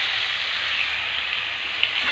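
Mutton seasoned with salt and turmeric sizzles under a lid in a wok, a steady bright hiss of frying with faint crackles and one small pop near the end, close and continuous, with no talking.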